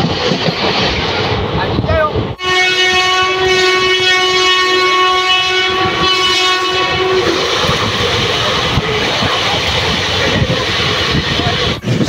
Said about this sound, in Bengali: আমাদের ট্রেন ঢুকে দিল এখন রানাঘাট জংশন।